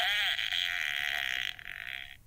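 A person voices a drawn-out, buzzing fart imitation lasting about two seconds, close and fairly loud, with no other sounds around it.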